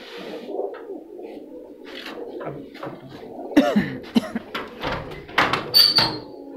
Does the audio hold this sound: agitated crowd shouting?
no